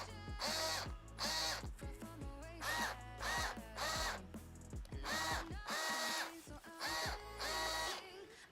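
A Bosch power drill drives screws into the plastic parts of a Voron V0.2 3D printer kit, in repeated loud whirring bursts that rise and fall as the trigger is squeezed and released, with short pauses between runs and no talking.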